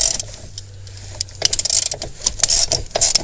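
A 3/8 ratchet spinning a bolt off a Foxbody pedal assembly, heard as rapid repeated metallic clicking in uneven bursts, close and fairly loud, with no talk.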